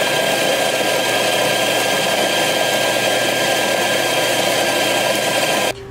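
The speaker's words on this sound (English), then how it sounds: "let's grind some coffee." A coffee grinder grinds coffee beans in a loud, steady, whirring drone that runs for about six seconds, then cuts off abruptly.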